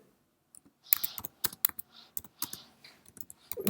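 Typing on a computer keyboard, close and crisp, with quick irregular bursts of key clicks over a few seconds and no talking.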